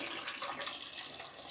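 Water gushes steadily from a tap in a home kitchen while cooking, a continuous close splashing stream with no talk over it.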